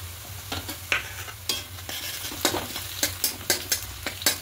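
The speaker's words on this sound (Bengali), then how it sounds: "এবার দেব পেঁয়াজ কুচি, দিয়ে হালকা একটু ভেজে নেব।" Chopped onion and green chilli frying in a pan for egg tarka, a close sizzle punctuated by quick, rhythmic spatula scrapes and taps that pick up toward the end.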